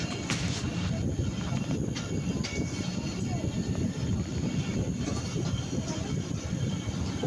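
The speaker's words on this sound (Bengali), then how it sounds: "ট্রেন কিন্তু চলতেই আছে" A moving train rolls steadily through the long Ishwardi bypass station in Pabna, with continuous rumbling wheel and carriage noise close by and a few faint metallic squeals.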